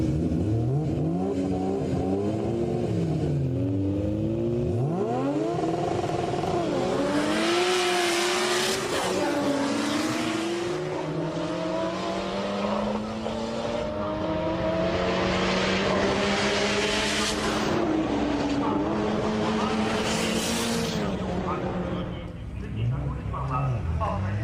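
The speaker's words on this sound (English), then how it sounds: "This Starlet EP82 has a fairly serious engine with a K26 turbo kit" A Toyota Starlet EP82 with a K26 turbo kit launches in a JDM drag race, its engine revving and rising through gears while someone talks over it.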